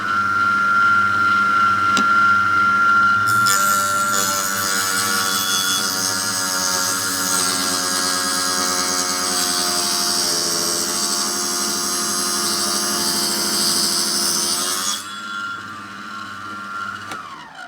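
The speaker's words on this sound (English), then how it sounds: "So I've just got to trim this now to size, using obviously a pusher, not getting my fingers anywhere near that rotating blade." A rotating saw blade trims a model aircraft fuselage part to size, with the workpiece fed by a pusher, producing a loud, steady whining cut that lasts about eleven seconds before spinning down, over a constant motor hum.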